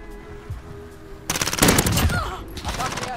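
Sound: gunfire from the video game Call of Duty Warzone

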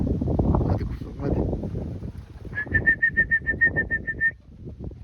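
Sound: pet birds, likely pigeons, flying around a rooftop loft

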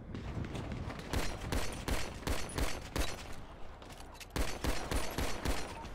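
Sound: gunfire in video game GTA 5

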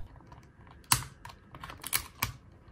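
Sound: knife scraping dried paint off a palette

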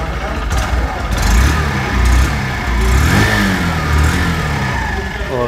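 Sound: Honda Shine 100cc motorcycle exhaust note after starting

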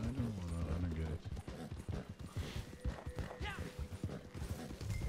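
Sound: horse hooves in video game

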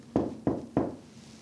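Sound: knocking sound in a reportedly haunted hallway

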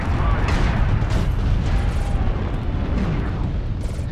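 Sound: strike explosions in a video game

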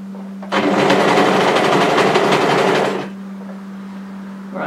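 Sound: overlocker sewing a seam

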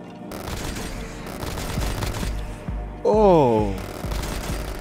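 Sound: gunfire from a video game, Black Ops Zombies

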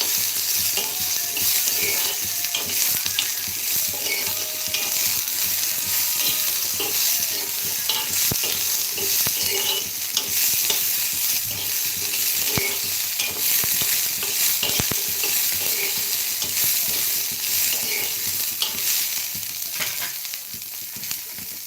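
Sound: roasting and stirring khichdi in a pan

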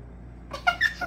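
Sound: squeaky cardboard door of a Funko advent calendar opening

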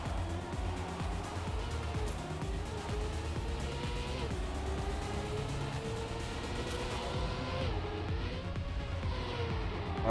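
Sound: car drifting in the Trackmania video game

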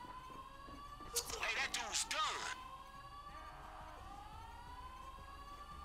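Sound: alarm siren in video game Grand Theft Auto V

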